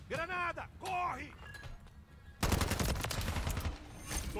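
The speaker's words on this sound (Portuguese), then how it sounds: "Tô levando tiro!" Rapid bursts of Call of Duty: Modern Warfare III gunfire erupt after a stretch of voices, dense and loud, continuing as sustained firing with shouting mixed in.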